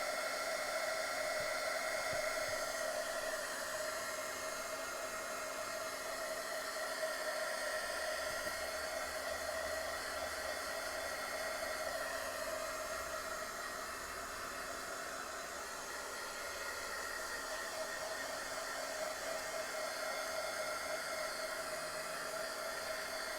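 A hair dryer drying a freshly glued page of a handmade junk journal gives a steady, loud blowing roar with a whining hum that holds without a break for the whole stretch, and no voices come in.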